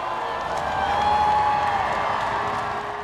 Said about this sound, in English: Lots of shouts from the crowd here.